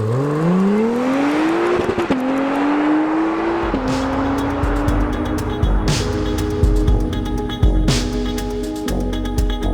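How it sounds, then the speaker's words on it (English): An Acura NSX's engine revs up and holds at high rpm before launch, its loud exhaust blaring and crackling with sharp pops as the revs are built. "put my left foot on the brake, build up the revs"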